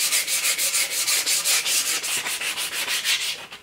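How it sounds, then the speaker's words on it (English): Sanding varnish off a wooden axe handle with 100 grit sandpaper, quick rhythmic rasping strokes repeated evenly and close, loud, with no voices. "I'm just gonna start with some 100 grit sandpaper."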